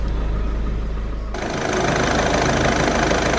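A 2016 Ford Focus engine with a newly fitted alternator and a lit battery warning light idles close by, a steady low hum that grows louder and more airy partway through, with no speech.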